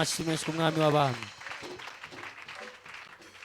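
A church congregation applauding during a worship service: a loud voice sings out first, then a steady wash of clapping from many hands continues underneath at moderate level.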